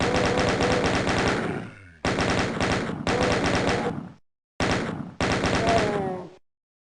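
The chaingun in Ultimate Doom fires in loud, rapid bursts, four or five of them separated by short pauses and one longer silence. Each rattling stream of shots cuts off sharply.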